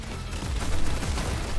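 Bursts of gunfire from a Roblox Counter-Strike-style shooter game: a dense, continuous rattle of shots that swells slightly midway, with no talking.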